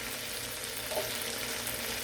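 Shrimp fry in a hot pan, giving a steady, close hiss and crackle of sizzling oil that holds even throughout.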